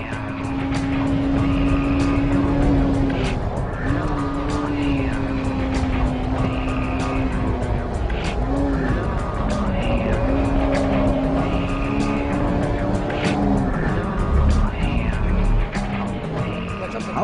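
A Honda Civic EK9 Type R with a B16B engine races in a driving game. The engine revs high and loud without a break, the pitch rising and falling through gear changes, with occasional tire squeal.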